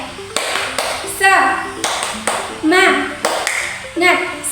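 A class of children doing a rhythmic clapping chant for a classroom ice-breaker, bursts of claps in a repeating pattern with group voices chanting along, close and lively.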